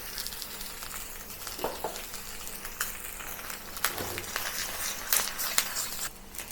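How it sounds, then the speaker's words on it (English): Pork belly dry frying skin side down in a hot wok for braised Dong Po Rou, a steady faint crackling sizzle with occasional louder pops and spits, close up and without talk. "heat up the wok and then put the pork inside, skin side down, to dry fry the skin"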